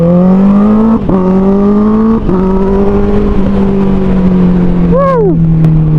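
A Honda CBR 650R motorcycle's inline-four engine drones close and loud at a steady pitch while riding, with brief dips at gear changes and a quick rev blip near the end, wind rushing underneath.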